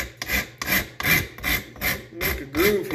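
Coarse-grit sandpaper is worked by hand over knife scales, a close rhythmic rasping of about seven even back-and-forth strokes in three seconds, with no voices.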